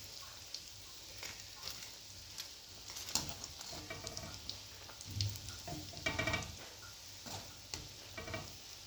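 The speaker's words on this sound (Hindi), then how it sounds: "बहुत अच्छे से हम लोग इसको फ्राई कर लेते हैं, डीप फ्राई।" Coated boiled-potato bites deep frying in oil, a quiet continuous bubbling sizzle with scattered crackles and occasional clinks of a utensil, close by and without speech.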